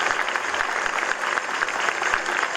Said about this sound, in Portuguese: Vamos dar uma grande salva de palmas ao Senhor por nossa cidade tão bela, maravilhosa, ecológica.